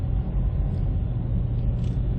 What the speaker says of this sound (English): That one car almost hit me.